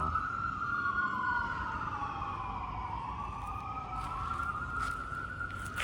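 An emergency siren, likely an ambulance, wails loud and close in a continuous rising and falling sweep, with steady traffic rumble underneath.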